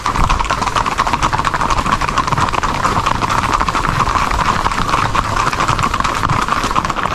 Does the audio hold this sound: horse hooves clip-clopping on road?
yes